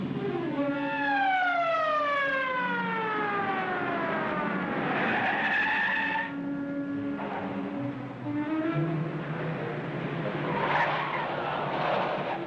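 A suspect's convertible car skids in a police pursuit on a highway, with long tire squeals sweeping downward, engine roar and later rough scraping and crunching, loud and close.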